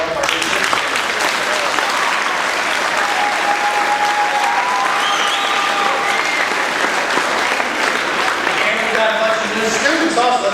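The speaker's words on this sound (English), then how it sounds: "Let's give them a round of applause." Sustained applause from a large school crowd welcoming new sixth graders, steady and loud throughout, with a few whistles and cheers rising above the clapping.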